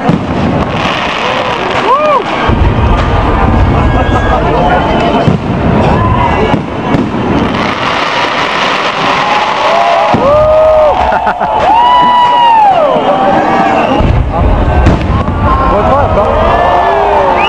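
New Year's Eve fireworks over Varna, Bulgaria, bursting in dense, loud crackling and booming volleys with whistling rockets rising throughout, while people nearby talk and call out under the blasts.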